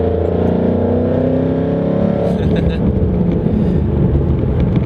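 A car drives on the open road with a loud, close engine drone that fades into broadband road and wind rush partway through.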